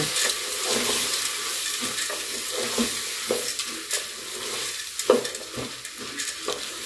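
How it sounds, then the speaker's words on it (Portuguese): Beans fry in a pan with a constant crackling sizzle, and a spoon stirs them now and then with soft scraping strokes close by. "Aí fazer estilo arroz, então, dá uma fritada no feijão."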